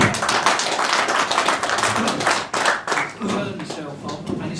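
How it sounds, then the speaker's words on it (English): A small audience at a hospice cheque presentation gives a ripple of applause, close clapping that runs steadily and then thins, with voices talking over it. "it's nice to get a ripple of applause"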